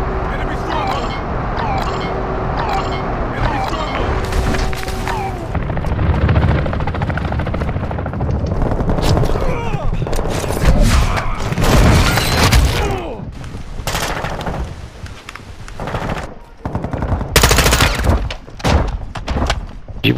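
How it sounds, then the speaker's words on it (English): Gunfire and explosions crack and thump in the video game Call of Duty Warzone DMZ in Al Mazrah, with bursts and heavy booms under a steady helicopter drone and players talking over the fight. "Taking effective fire!"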